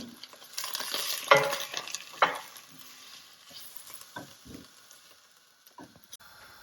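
Spices fry in a pan with a soft, intermittent sizzle, punctuated by a few sharper scraping and clinking stirring sounds, quiet and close with no talk.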